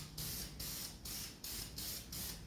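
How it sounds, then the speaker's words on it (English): Clear aerosol lacquer sprayed from a can onto a wooden tabletop, heard as six short, close hissing bursts in an even rhythm with brief gaps between them. "spraying some clear aerosol lacquer out of a can onto the tabletop surface"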